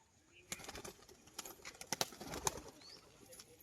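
Female pigeons held at a market stall give low, soft coos amid faint handling clicks and rustling, close but quiet.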